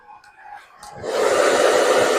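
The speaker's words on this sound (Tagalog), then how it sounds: "Malaking tulong po to, itong blower." A heat blower switches on and settles into a loud, steady whooshing roar after a few quiet breaths, used while applying spray paint and stickers to a vehicle.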